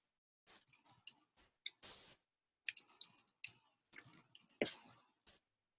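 A computer mouse clicks while an image is being saved, with scattered soft clicks in small clusters against a near-silent background.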